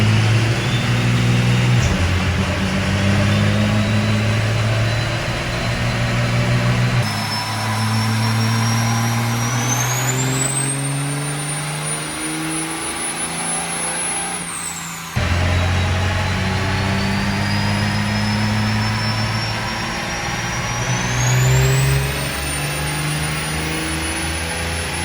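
Cummins diesel engine with dual CP3 injection pumps and twin turbos running hard on a dyno, a loud sustained roar with rising turbo whine that winds up, drops off, then climbs again.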